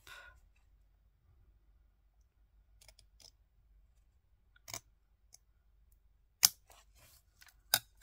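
Scissors snip paper for an ocean-themed scrapbook folio. A few sharp, separate cuts and clicks stand out against near silence, spaced irregularly and coming closer together toward the end.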